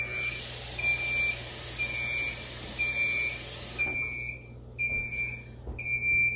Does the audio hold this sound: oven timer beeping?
yes